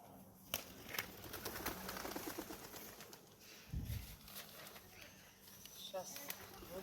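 Pigeons cooing and fluttering outdoors while a person talks nearby in Ukrainian, with a dull thump midway.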